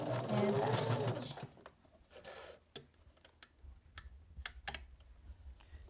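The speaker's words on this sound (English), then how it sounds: "Now we've stitched all the way around" Sewing machine stitching fabric for a beginner nail file holder project: a loud, fast run of stitching for about a second and a half, then quiet clicks and handling noises close by.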